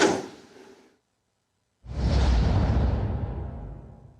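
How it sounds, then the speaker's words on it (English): A whoosh sound effect from a motion-graphics library: a short airy swish that fades out, a second of silence, then a longer, fuller rushing sweep that slowly tails off. "if we click on whoosh, we get all these different kinds of whooshes"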